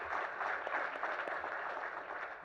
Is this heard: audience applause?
yes